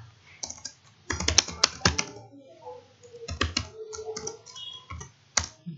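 Bursts of clattering computer keyboard typing, fast clustered keystrokes in several runs separated by short pauses, fairly close and clear.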